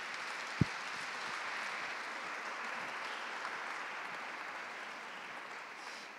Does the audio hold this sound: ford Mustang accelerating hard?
no